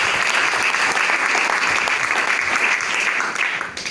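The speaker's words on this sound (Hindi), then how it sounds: "एक बार जोरदार तालियां हो सर।" Audience applause at a business plan seminar in Gohana, a dense, steady wash of many hands clapping together close by, holding strong before tapering off at the very end.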